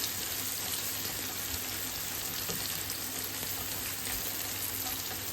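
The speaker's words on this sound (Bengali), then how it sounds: "ওই তেলটা দিয়ে আমি পেঁয়াজটা একটু ভালো করে একটু ভাজা ভাজা করে নিচ্ছি" Onions frying in leftover oil in a pan make a continuous, dense sizzle close to the microphone, with faint stirring and no talk.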